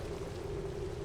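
Modded game rain lands on wool blocks in a brief, softened, steady rush of noise with a dull low rumble, constant and without voices.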